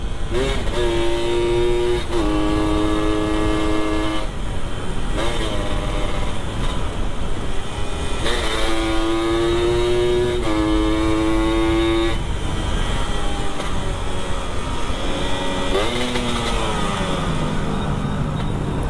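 Engine noise from a two-stroke mini motorcycle throughout, with repeated horn toots and rising engine pitch as it rides along a road; a voice speaks briefly.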